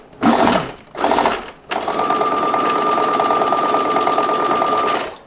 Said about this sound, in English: you just simply sew just right beyond that line there